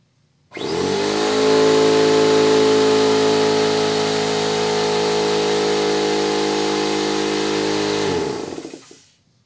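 A Campbell Hausfeld air compressor starts up, runs loud and steady with a dense buzzing motor drone, then shuts off and spins down; no voices.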